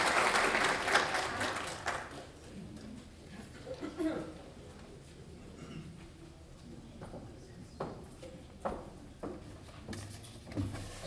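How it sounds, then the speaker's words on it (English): Applause from a graduation audience at an immigrant career pathways ceremony, a dense burst of clapping in the first two seconds that thins quickly into scattered claps, shuffling and murmuring from the room. "please give a round of applause to hear from them"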